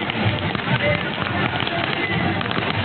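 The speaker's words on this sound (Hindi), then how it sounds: "जहां जहां रैली पहुंची लोगों ने आतिशबाजी से इस्तकबाल किया।" Dense crackling bursts of fireworks pop continuously at a political election rally in Lahore, with a crowd's noise mixed in underneath.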